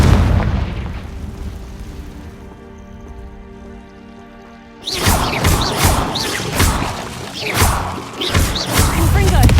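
Confringo fire spell in Hogwarts Legacy bursting in a string of heavy booming blasts over crackling debris, following a quieter stretch of ambient game sound; a voice is heard between the hits.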